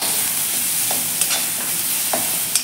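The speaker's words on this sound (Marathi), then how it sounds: "हे वाटण छान असे परतून घ्यायचे आहे आपल्याला." Ginger-garlic paste sautés in oil over low heat, giving a continuous dense sizzle with a few brief scrapes of a spatula, loud and close, and no one speaks.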